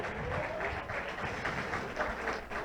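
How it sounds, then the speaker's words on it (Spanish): Church congregation applauding a pastor, a dense steady wash of many hands clapping throughout, moderately loud with no speech on top. "Denle el aplauso más fuerte al pastor y al Señor"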